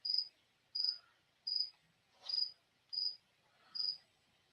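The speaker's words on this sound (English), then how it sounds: "I've currently got a cricket that's calling, Diana" A cricket kept as an exotic pet calls with six evenly spaced, high chirps about once every 0.7 seconds, faint and alone in a quiet room.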